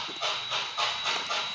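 A Bachmann Spectrum K4s model steam locomotive chuffs in a steady rhythm of four hissing puffs, close and clear with no talking over it.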